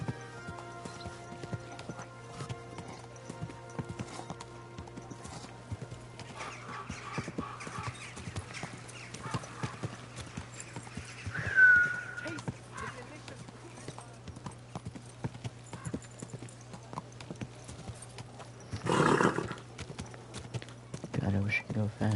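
Quiet, regular horse hoofbeats clop along steadily in the video game KCD2 under faint background music, with brief louder bursts partway through.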